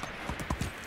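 Horse hooves clip-clop at a riding pace in the Medieval Dynasty video game, a quick run of four or five close, soft thuds on the ground with nothing else over them.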